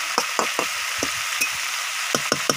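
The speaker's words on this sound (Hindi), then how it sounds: "ये देखिए टमाटर भी दे दिए, इसको फिर भूजना पड़ेगा, सिझाना पड़ेगा थोड़ा" Gular (cluster fig) vegetable and tomatoes frying in a pan, a steady bright sizzle broken by repeated short scraping stirs at an uneven rhythm, close and fairly loud with no talking.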